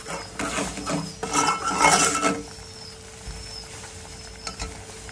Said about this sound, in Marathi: अजून 1-2 मिनिटं मसाला भाजून घेऊया.